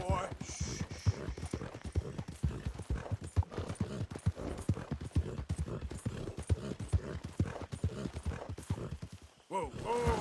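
Horse in Red Dead Redemption 2 with rapid rhythmic hoof clip-clops, close and continuous, plus a neigh near the start and snorting, while a voice calms the animal over the hoofbeats.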